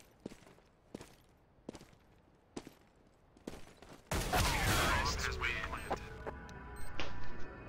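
Gunfire in the video game CS:GO: several sharp, separate shots spaced about a second apart, then a sudden dense burst of loud, sustained firing and clatter that carries to the end, with people talking faintly in the background.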